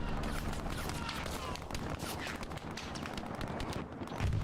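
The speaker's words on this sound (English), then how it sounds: "That MG is just killing them." Sustained machine gun fire in Hell Let Loose, a dense, steady stream of rapid shots heard at a moderate distance under a continuous battlefield din. A voice talks over the gunfire.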